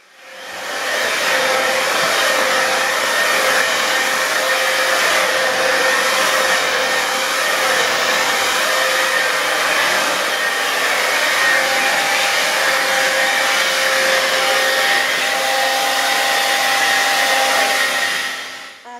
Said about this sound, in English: So I'm just using my blow dryer just to stretch the hair out.